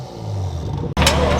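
A 2020 Toyota Supra with a straight-pipe exhaust drones at a steady idle, then its exhaust valve snaps open and the tone jumps to a louder, raspier roar as the engine is revved, heard close by.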